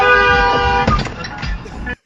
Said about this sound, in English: What are you honking at me for